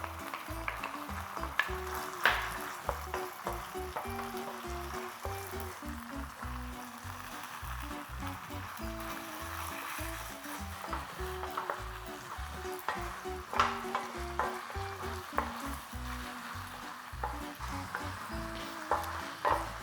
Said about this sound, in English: what it's going to do is finish the spaghetti off in the pan